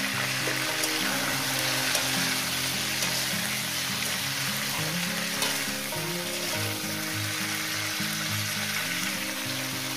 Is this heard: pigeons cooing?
no